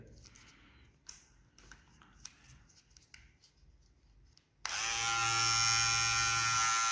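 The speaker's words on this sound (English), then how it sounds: "here is a trimmer" A Nova rechargeable electric beard trimmer runs with a steady, loud motor buzz after several seconds of quiet handling clicks and taps.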